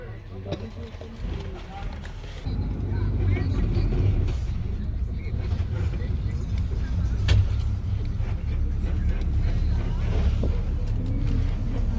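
A bus pulls away at night, its engine rising to a steady low rumble after a quieter start, with people talking over the motor noise.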